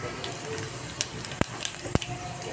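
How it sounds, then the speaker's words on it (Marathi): Cumin seeds crackling in hot oil for a raw banana sabji, a low sizzle broken by a few sharp isolated pops, close and fairly quiet. "जिरं छान तडतडू द्यायचं"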